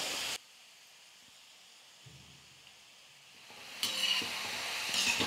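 Omapodi dough sizzling in hot oil and stirred with a ladle: a brief burst of frying at the start, a near-silent gap, then the crackle and hiss swell back in, close and without speech.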